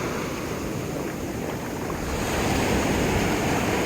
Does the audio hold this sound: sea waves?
yes